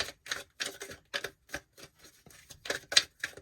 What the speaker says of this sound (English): I'm going to go ahead and do one more shuffle here